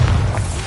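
A Bombarda spell explosion in Hogwarts Legacy on PS5, heard as a short, loud, deep boom with a heavy low-end rumble throughout.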